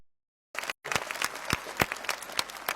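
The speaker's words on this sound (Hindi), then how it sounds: "एक बार जोरदार तालियां हमारे ओलंपिक्स के साथियों के लिए" Crowd applause at a political gathering honouring Olympic athletes, starting after a brief silence and then continuing as brisk, uneven clapping from many hands at moderate loudness.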